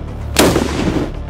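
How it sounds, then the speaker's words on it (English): A single loud gunshot fired at a bulletproof glass and brick wall test target outdoors, a sharp close blast with a short rumbling decay. "They're here to shoot the walls."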